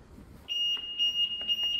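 A sensor alarm, triggered by a hand reaching toward it, sounds a steady, high-pitched electronic tone that starts abruptly and holds with slight pulses, close and clear, with no talking.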